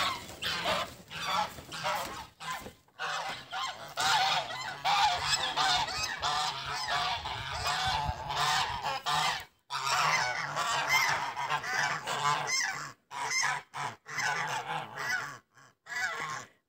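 A flock of domestic geese in a farmyard honks again and again in overlapping bursts with short pauses between, the calls close and lively, and no talk.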